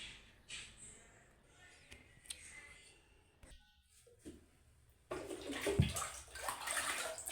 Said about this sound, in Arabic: نغسل الحوايج البنات تاعي